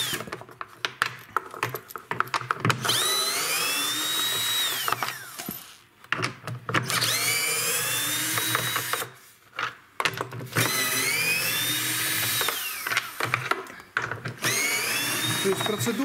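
A cordless screwdriver drives out the screws holding together an LG washing machine tub during a bearing replacement. Its motor whines up and down in several separate bursts, close and fairly loud, with short pauses between them.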